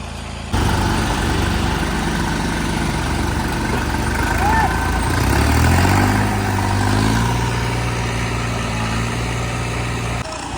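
A tractor engine drones steadily in a rain-soaked maize field while a trolley is stuck. The low, close rumble swells and shifts pitch midway as it is revved, then settles back to a steady run.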